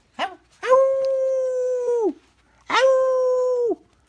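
A dog howls alone indoors, beside a bed: a short yelp followed by two long, steady, tonal howls, each lasting over a second with a brief gap between them, loud and close.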